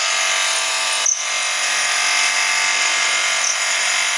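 A Marq by Flipkart 1-ton 3-star air conditioner on turbo mode gives a loud, steady mechanical whir with a high-pitched hiss throughout, broken by one brief dip and knock about a second in.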